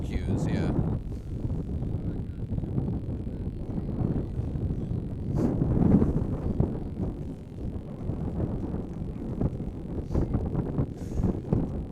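Wind gusting across an outdoor field hockey venue in the Philadelphia area, a steady low roar and microphone buffeting throughout, with a louder gust midway.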